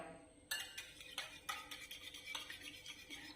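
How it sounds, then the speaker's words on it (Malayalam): A spatula works sugar into cake batter for a tutti frutti fruit cake in a bowl, a quiet series of soft rhythmic scraping strokes and light taps, close by, with no talk. "നമ്മുടെ ഈ സ്പാച്ചില വെച്ച് തന്നെ നമുക്ക് നന്നായിട്ട് പഞ്ചസാരയും ഇതെല്ലാം കൂടെ നന്നായിട്ട് മിക്സ് ആക്കി എടുക്കാവേ."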